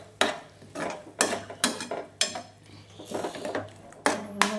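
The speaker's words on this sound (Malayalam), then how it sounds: "ഇനി അതിനെ നല്ലോണം വഴറ്റി കൊടുക്കുക കേട്ടോ." Ginger garlic paste being sautéed in a pan for chicken curry, stirred with a utensil in a steady series of scraping strokes about once a second, close and moderately loud, with no talk.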